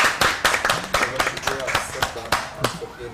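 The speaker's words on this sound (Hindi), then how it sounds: "सही मानों में मेरी तरफ से जी तालियां बजा दे सारे मिलके जी" A studio audience on an Eid special television programme claps in sharp, close, uneven bursts, with voices talking underneath.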